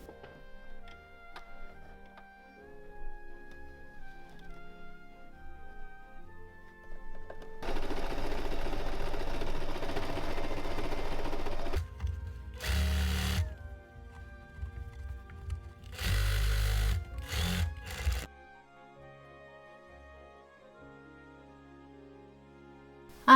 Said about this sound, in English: I've just been sewing my little stripes where the rope's going in